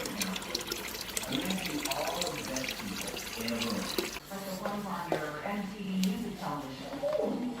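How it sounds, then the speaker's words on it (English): Running water splashes and pours steadily, close by, as aquarium canister filter parts are rinsed in tank water, with a person talking over it. "So you just rinse everything off out of the filter in your tank water"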